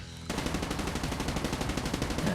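Sustained automatic fire from an HVK-30 assault rifle in Call of Duty: Mobile, a rapid, steady stream of shots that starts abruptly after a brief quiet moment and holds loud and even to the end.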